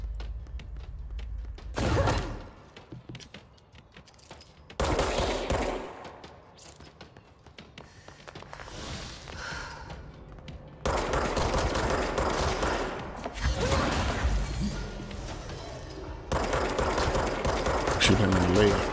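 Loud, rapid bursts of automatic gunfire from the video game Control, with short pauses between volleys and denser, sustained firing through the second half.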